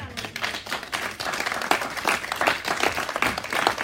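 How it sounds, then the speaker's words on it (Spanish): Church congregation claps in praise during a sermon, an uneven burst of many hands clapping that swells and dips across the stretch, fairly close and with no talk over it. "Dale un aplauso."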